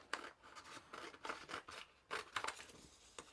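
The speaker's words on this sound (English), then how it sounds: "I'm just going to trim this" Scissors trimming craft material to size, several close crisp snips and slicing cuts in uneven bursts with short gaps between them, clear and alone without talking.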